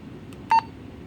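A single short electronic beep from a Motorola MR355R handheld radio sounds, clean and tonal, over a faint quiet background.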